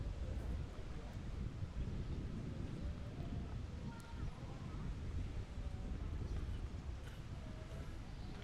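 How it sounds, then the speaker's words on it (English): Gusty wind sweeps across an outdoor tennis court during a doubles match, a steady low rumble buffeting the microphone throughout, with faint court sounds underneath. "It is getting very windy over across this court."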